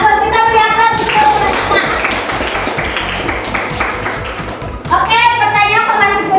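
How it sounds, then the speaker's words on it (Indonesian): Classroom applause from a group of students, a dense burst of clapping that swells and holds for several seconds, with children's voices and a teacher's voice speaking before and after it. "kita beri aplaus"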